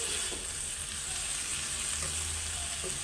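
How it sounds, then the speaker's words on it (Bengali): Ingredients for a coriander-leaf bharta fry in a pan until reddish, giving a continuous fairly soft sizzling hiss with faint stirring and no voices. "এটা একটু লাল লাল হয়ে ভাজলে তারপরে পাটায় বাইটা নিব ভর্তাটা"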